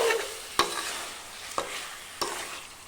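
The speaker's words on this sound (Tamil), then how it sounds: "இப்போ வந்து இந்த மசாலாவோடு சேர்ந்து இது நல்லா வதங்கணும்." Chicken curry with onion and green chilli sautés in masala, a steady sizzle broken by three sharp spatula knocks against the pan.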